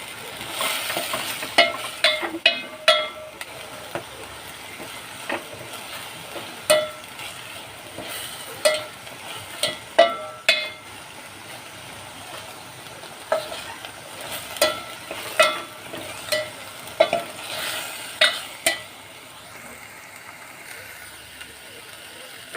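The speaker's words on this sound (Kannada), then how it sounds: "ಸ್ವಲ್ಪ ಹೊತ್ತು ಫ್ರೈ ಆಗಲಿ." Food frying in a pan with a soft sizzle, broken by frequent spoon clinks and scrapes against the metal, all fairly quiet and spread through the whole stretch.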